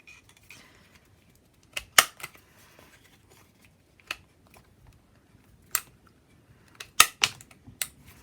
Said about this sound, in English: I'm going to use the same corner chomper, the 1/4 inch, to cut the corners of my mounted version